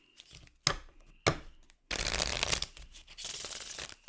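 Tarot cards being shuffled by hand: a few sharp separate flicks and slaps, then a longer dense riffling burst, close and fairly quiet with no talking.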